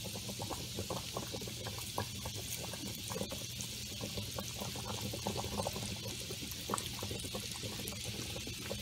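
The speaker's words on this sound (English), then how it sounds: "Let those saute." Garlic and chili flakes sautéing in a pan for shrimp scampi pasta, giving a steady, even hiss of sizzling oil dotted with small crackles, constant and unbroken throughout.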